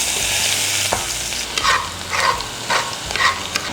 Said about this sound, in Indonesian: Kita goreng aja sampai sedikit kuning kecoklatan gitu